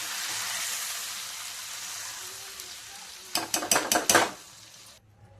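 Village-style mixed vegetable curry in a spicy tempering is stirred in a pan, with a faint sizzle first, then a short burst of loud, rhythmic scraping and clattering strokes that stops abruptly.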